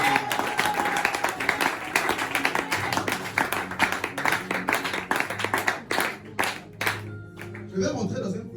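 Church congregation clapping and cheering for Jesus during a seminar, dense rhythmic applause with crowd voices, loud and sustained, then thinning out toward the end.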